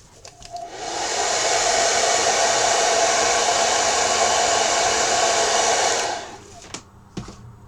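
A hair dryer blows steadily for about five seconds, loud and close, while drying paint on a wooden ghost Halloween sign. Soft handling clicks come before and after.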